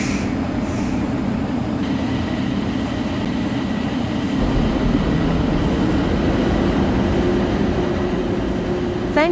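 A Bombardier Innovia APM 300 airport transit train pulls out of a station in Roblox, a steady loud rumbling hum with a faint rising whine toward the end, continuous and unbroken, no talk over it.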